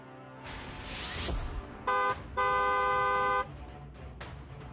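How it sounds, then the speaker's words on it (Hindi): A vehicle horn honks in two distinct blasts, a short toot followed by a longer sustained one, loud and close, preceded by a passing rush of traffic noise. "सावधानी वाला हॉर्न बजाना जरूरी है।"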